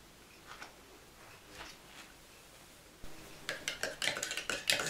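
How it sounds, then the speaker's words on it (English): A spoon stirring hot chocolate in a cup, with a few faint clinks at first and then a rapid run of bright, close metallic scrapes and taps against the cup's sides, no talking. "So it's time to take it out and stir it around again."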